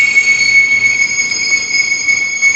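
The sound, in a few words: industrial freight train passing on nearby tracks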